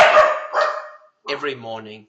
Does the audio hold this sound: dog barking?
yes